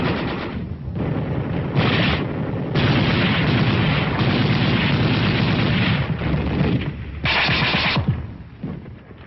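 Battlefield gunfire and artillery as Marine foot soldiers fire from a ridge line: dense, loud bursts of crackling shots and heavy blasts come in rapid clusters with brief lulls, and no voices are heard.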